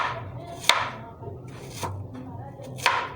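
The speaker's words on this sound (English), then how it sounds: "we chop them into nice shapes." Knife chopping vegetables into shapes on a cutting board while cooking dinner: three sharp, separate chops spaced about a second apart, close by, over faint background voices.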